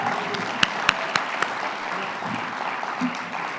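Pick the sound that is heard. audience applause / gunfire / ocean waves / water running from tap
audience applause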